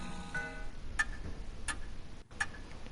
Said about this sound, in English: Silence descends, broken only by ticking.